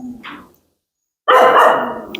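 A Rajapalayam dog gives a short yelp, then after a brief pause lets out one loud, close bark.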